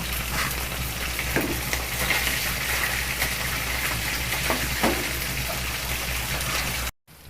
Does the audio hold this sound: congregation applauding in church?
no